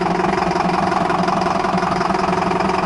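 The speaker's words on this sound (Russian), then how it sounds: "Дизелек он как пых-пых-пых и поедет. Маленький, но громкий, да?" A small diesel car engine idles close by with a steady, loud, throbbing rumble that holds evenly throughout, with no talking.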